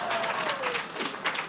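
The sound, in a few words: audience applause at commencement ceremony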